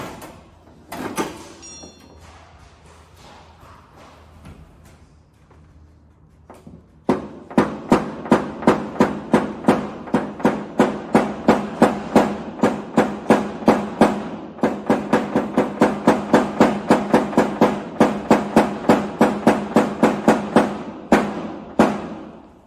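Car body sheet metal being flattened during paintless dent repair gives a long series of rapid, evenly spaced sharp taps, preceded by quieter scraping and handling sounds.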